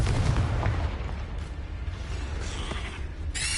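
A Confringo explosive spell blasts in Hogwarts Legacy, a heavy booming burst with low rumbling and crackle sustained across the moment, followed by a sharp bright flash of sound near the end.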